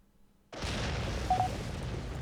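After a quiet moment, a nuclear missile strike on a city in a video game erupts into a sudden deep rumbling blast that holds loud and steady to the end.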